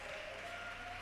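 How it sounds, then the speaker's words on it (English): Clapping from a congregation at an international gospel rally, a short, steady wash of applause at moderate level with a faint sustained tone running beneath it. "I think you can clap them and make some noise."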